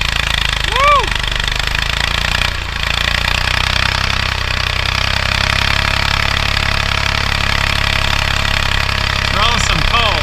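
A farm tractor engine runs steadily while planting corn in the field, a loud continuous drone with a brief dip partway through.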